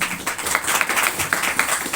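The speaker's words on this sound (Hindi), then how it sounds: "ताली बजाएं भाई" Congregation clapping at a Sunday morning church service, a continuous patter of many hands applauding together at close range with a loose, steady rhythm.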